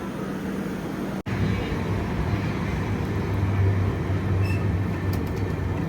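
The Secunderabad to Vasco Da Gama bi-weekly express rolls along with a continuous loud rumble and rattle heard from inside the coach, with one sharp momentary dropout early on and steady wheel noise throughout.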